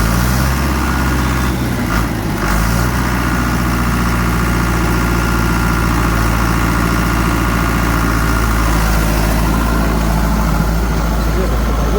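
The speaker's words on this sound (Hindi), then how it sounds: "देखो भाई, आवाज देखो ट्रैक्टर की, जीप जैसी आवाज है।" A loud, steady Farmtrac 6055 diesel tractor engine idling with a constant low rumble and vibration, continuous throughout.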